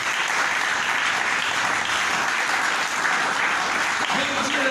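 A church congregation claps to praise God during a French-language sermon, producing a loud, sustained, dense wash of applause with voices mixed in and a faint tonal line near the end.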